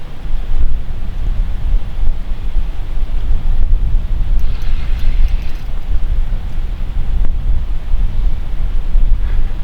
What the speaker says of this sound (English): The wind's picked up and the flies have disappeared and the line is singing in the wind.